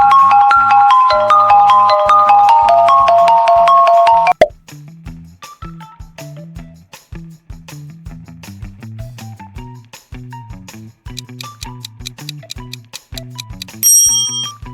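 A Sony phone ringtone plays loud and alone: a bright bell-like chiming melody at first, then bouncy plucked and marimba-like tones over a steady low bass pulse, closing with a few high sparkling notes.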